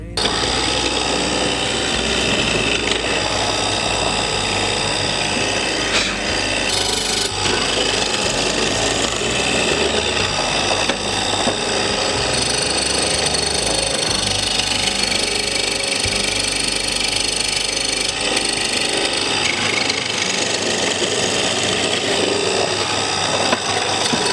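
A woodworking router with its bit locked in a chuck and the unit fixed firmly to a workshop table, running steadily and loudly for the whole stretch with a dense whine and no pauses.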